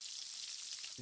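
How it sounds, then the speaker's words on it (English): Bacon sizzling on a grill gives a steady, close hiss of spitting and crackling fat that stays even throughout the short moment, with no voices. "That is the sound of bacon sizzling,"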